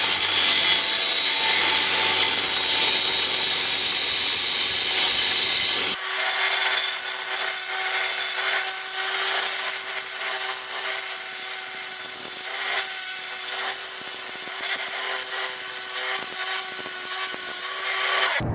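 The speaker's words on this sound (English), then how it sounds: "So guys, that is how you cut a hole in a tile using an angle grinder." Angle grinder cutting a hole in floor tile, a loud continuous high-pitched grinding whine that shifts in tone after about six seconds as the blade bites the tile, close and without talk.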